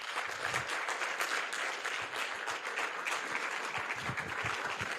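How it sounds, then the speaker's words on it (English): Audience applause for the Governor of Lagos State at the opening ceremony of the PSN Lagos Week 2024 event, steady, dense clapping from a large indoor crowd sustained throughout, with no talk over it. "as we give the governor a round of applause, please?"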